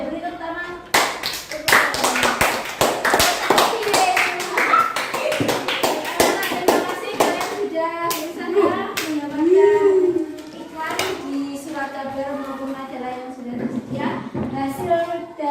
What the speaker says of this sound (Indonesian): Beri tepuk tangan.